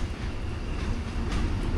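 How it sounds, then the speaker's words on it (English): A train on the Salkantay trek route near Aguas Calientes, Peru, rolls by with a steady low rumble and rail noise at moderate distance, continuous throughout. "We've come across another train."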